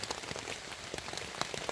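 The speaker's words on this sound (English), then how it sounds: "Here comes that rain I was worried about. Just started pouring down, so I had to take shelter in my tent real quick." Heavy rain pours steadily onto a tent during an overnight camp, a dense continuous patter with many distinct close drops striking the fabric, no voices.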